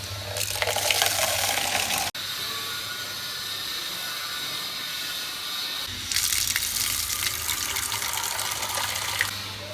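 Water is poured onto potted plants and a bird's drinking bowl is filled at home: a steady broadband gush of running water that stops briefly, then resumes more strongly, with no talking.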